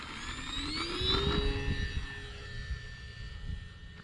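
An E-flite RV-7 bind-and-fly RC model airplane, 1.1 m span, flies past with a steady electric motor whine that rises in pitch and then holds, fairly near and loud, with faint background noise and no talk.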